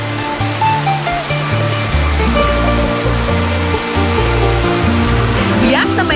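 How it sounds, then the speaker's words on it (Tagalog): Water flows continuously through a nature resort pool surrounded by trees, a steady loud rushing wash that never lets up, heard under background music and a talking voice. "Dito sa malabatis nilang pool, tuloy-tuloy ang agos ng tubig."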